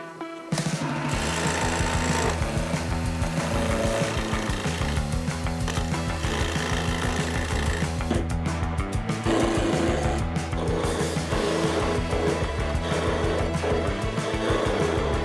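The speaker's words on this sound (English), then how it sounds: "So I'm gonna put them all in the lathe and get them all to a dowel shape before we get started." A wood lathe spins wooden blanks down into round dowels for wand-making, a loud continuous rattling drone with chattering cutting noise over a motor hum, close and steady throughout, with no one talking.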